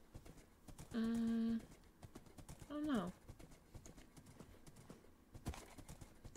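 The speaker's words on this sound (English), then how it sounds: "What should we name the horse?" Minecraft horse sounds in a survival game: a loud, drawn-out whinny followed by a shorter, falling neigh, with soft in-game hoof clops and short spoken remarks around them.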